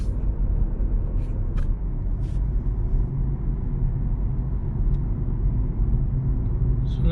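A Kia Sportage on a test drive after a front wheel bearing replacement, with a steady low road and engine rumble throughout, no grinding, and a few faint brief clicks over the drone.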